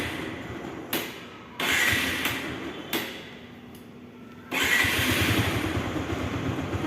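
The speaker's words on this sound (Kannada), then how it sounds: "ಈಗ ಸೆಲ್ಫರ್ ನೋಡಿ ಗಾಡಿ ಸೆಲ್ಫರ್ ನೀಟಾಗಿ ಸ್ಟಾರ್ಟ್" Bajaj Pulsar 150 motorcycle with a newly fitted Exide battery, electric self-starter cranking in short bursts before the engine catches and settles into a steady idle, close by with no talk.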